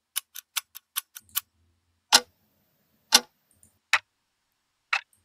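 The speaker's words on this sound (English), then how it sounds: "CapCut basically find those clock ticking for me" A clock ticking sound effect from the CapCut sound library: a quick run of sharp, evenly spaced ticks, then a few louder, slower clicks spaced about a second apart, heard alone and close.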